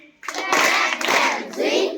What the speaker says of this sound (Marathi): क्लॅप क्लॅप झुई म्हणा